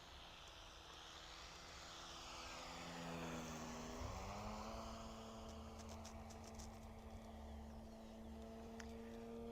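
A 60cc gas-powered Phoenix Models Tucano RC airplane makes a low pass, its engine a steady drone that rises and shifts in pitch as it sweeps by, moderately distant and faint.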